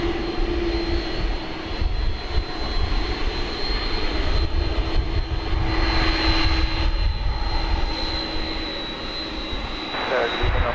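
An Envoy regional airliner landing at Dallas/Fort Worth International Airport produces a steady turbine whine with a sustained high tone over a low engine rumble, while air traffic control radio speech runs over it.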